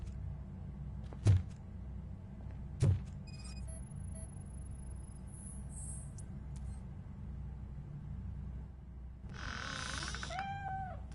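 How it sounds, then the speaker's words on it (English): A cat meows in the video game Robocop Rogue City: one drawn-out, wavering meow near the end, heard over a low steady hum after two short soft thumps earlier. "Mr. Cat. But where are you hiding?"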